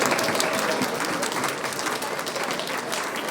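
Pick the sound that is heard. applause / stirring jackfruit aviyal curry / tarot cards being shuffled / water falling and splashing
applause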